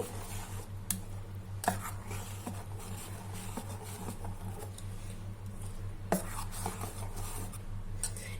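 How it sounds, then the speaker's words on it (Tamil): A spoon stirs salt into red-rice paniyaram batter, making quiet, steady wet patter with a few sharper clicks against the bowl over a low background hum. No one speaks. "இப்போ உப்பு நல்லா கலக்கிட்டோம்"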